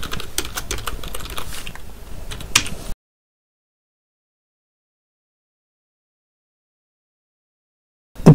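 Computer keyboard typing as code is written, a quick run of close, dry key clicks lasting about three seconds, followed by silence and a short burst of sound at the very end.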